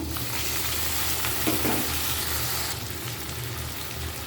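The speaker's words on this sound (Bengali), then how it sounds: "এখানে আমি তিনটা টমেটো কেটে রেখেছি এভাবে এগুলো আমি দিয়ে দিলাম" Three chopped tomatoes are added to a pan of fried onion, garlic and spices, producing a steady close sizzle with stirring scrapes that continue throughout.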